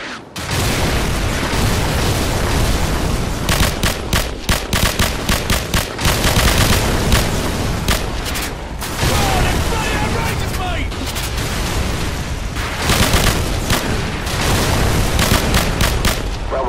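Call of Duty 4: Modern Warfare artillery fire mission brings heavy, near-continuous explosions and rapid gunfire, loud and dense for the whole stretch, with booming impacts and crackling shots under occasional radio voices.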